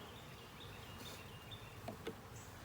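Honey bees buzz quietly around their queen inside a package of bees, a soft continuous hum with a couple of brief louder passes near the end.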